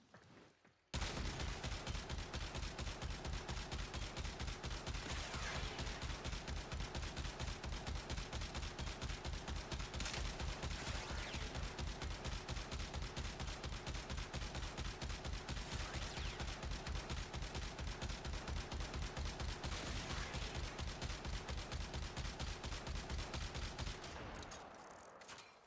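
Perigale Prime rifle fire in Warframe pours out as one long, rapid, even stream of shots, loud and close, lasting over twenty seconds before cutting off, with no talk over it.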